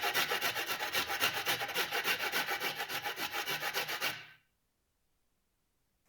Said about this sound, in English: Now I want to make a lemon curd. For this I need some lemon zest.